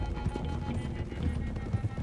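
Horse hooves in Red Dead Redemption 2 on a hillside trail, with soft, irregular clip-clop footfalls moving along under background game sound.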